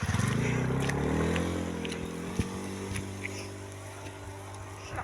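A motorcycle engine drones past on a road near a hanging bridge in Palawan, loud at first and fading away over a few seconds as it recedes, with a brief knock midway and faint background noise after.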